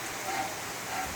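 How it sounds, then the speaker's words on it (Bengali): Heavy rain falls without a pause, a broad hiss like rain hitting a surface close by. It stays at an even level with no voices and no other sounds over it. "খুব বৃষ্টি হইতেছে।"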